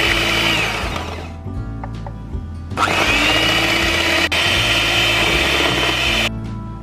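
An electric mixer whips heavy cream for orange ice cream with a loud, steady motorized whir, briefly shifting in pitch as the beaters start and stop, with no talking.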